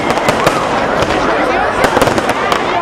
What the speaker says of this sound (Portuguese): Na noite de ontem, muitos fogos para comemorar mais um presente para o centenário.